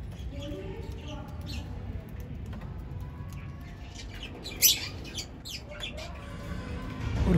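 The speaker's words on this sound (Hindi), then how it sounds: "होटल के अंदर काफ़ी सारे पक्षी हैं और इनकी आवाज़ चों चों चें चें वाली काफ़ी अच्छी लग रही है" Parrots, pigeons and sparrows chirp and squawk inside the Rajvi Palace hotel, scattered calls over a constant murmur of background noise, with a sharper squawk standing out partway through.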